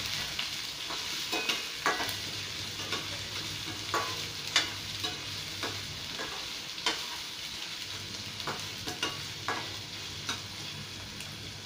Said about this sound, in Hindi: इनको ब्राउन होने तक हम भून लेंगे।